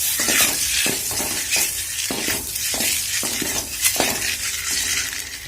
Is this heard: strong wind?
no